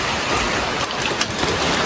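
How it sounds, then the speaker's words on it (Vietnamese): Heavy rain pours down steadily at a house construction site in Vietnam, a dense, even hiss filling the scene with no voices. "Vừa đến nơi thì trời mưa khá là to rồi các bác."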